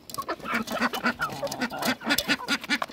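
Aseel hens and a rooster at a poultry farm cluck in quick repeated bursts, close and fairly loud, with overlapping calls from several birds and no talking.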